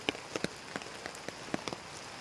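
Rain falls steadily on a surface, with scattered individual drops tapping out irregularly over a soft continuous hiss; no one speaks.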